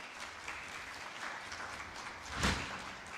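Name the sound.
audience applause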